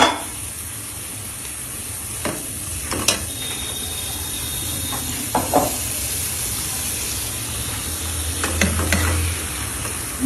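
Fried fish and flat beans stirred lightly in a pan, with a continuous sizzle broken by a few sharp spatula scrapes and clacks against the pan.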